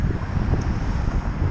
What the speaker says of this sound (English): It's a little bit windy. I hope you can still hear me.